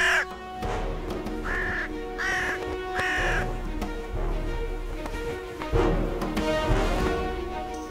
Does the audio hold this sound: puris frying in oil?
no